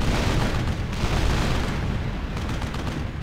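Artillery fire in a World War 2 battle simulator video game: a dense, continuous barrage of loud booms and rumbling blasts that blur into one heavy roar for the whole stretch, with no voices.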